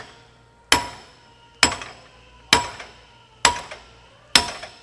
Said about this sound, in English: I'm gonna start driving that bushing out.